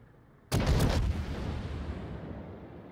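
A naval gun broadside salvo fires in the World of Warships game with one loud, close blast of several fast overlapping reports, then a long rumbling tail that fades out over about two seconds.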